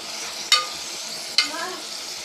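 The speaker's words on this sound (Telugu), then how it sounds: "ఉల్లిపాయ ముక్కలు మగ్గిన తర్వాత మటన్ అయితే వేసేసుకోవాలి." Mutton frying with softened onion pieces in a pan, a steady close sizzle broken by two sharp scraping stirs of a spoon, the sizzle flaring briefly after each stir.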